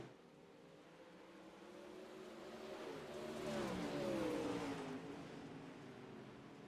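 Dirt track Pro Late Model race cars roar past at a distance, engines swelling to a peak midway and fading again, with pitch sliding down as they go by.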